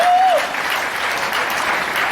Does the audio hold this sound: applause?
yes